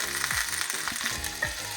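Half a pork knuckle frying in a pan, prepared Bavarian style, gives off a continuous dense sizzle with crackling pops, and utensils knock and scrape in the pan now and then, close up and steady.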